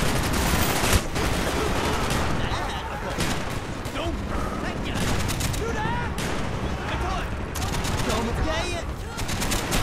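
AK rifle fire in Call of Duty: Black Ops rattles in dense, continuous bursts and volleys, loud and close, with game voices and effects mixed in throughout.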